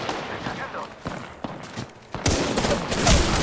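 Gunfire in the battle royale game Apex Legends, with scattered single shots early and then a dense, loud rapid burst of automatic fire, voices faintly mixed in.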